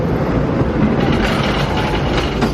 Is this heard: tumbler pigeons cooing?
no